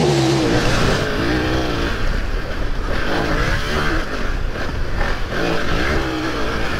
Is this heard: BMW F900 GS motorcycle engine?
yes